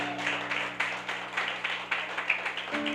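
A church congregation claps in a quick, rhythmic burst, fairly close and moderately loud, while a sustained organ or keyboard chord holds underneath.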